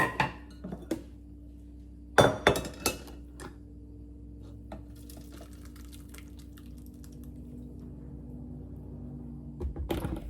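A spoon breaks up passionfruit pulp from the seeds in a strainer, giving sparse metallic clinks and scrapes in clustered bursts, the loudest near the start and end, with a quiet steady hum between.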